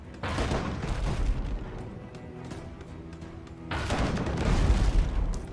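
Deep booming ship cannon blasts in the game Abandon Ship, a burst of rumbling shots, a lull, then another heavy volley of explosions.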